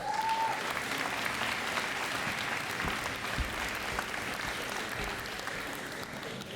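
An audience claps steadily at a college graduation ceremony in Acadian New Brunswick, a dense, sustained wash of applause from many hands that fades slightly toward the end, with a brief tone near the start.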